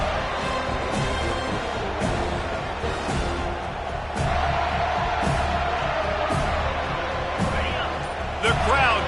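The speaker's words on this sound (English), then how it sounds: "The crowd getting behind this defense as they try to get a stop in the red zone." A stadium crowd at a college football game roars steadily for the defense, a broad sustained cheer with scattered whoops and claps, under a commentator talking.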